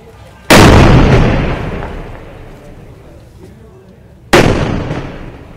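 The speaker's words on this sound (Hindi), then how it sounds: "ये रेंज यहाँ पर फायरिंग हो रही है गन्स की" Artillery guns made in Jabalpur firing at a test range: two loud, sharp booms about four seconds apart, each with a long rolling decay, heard alone without talk.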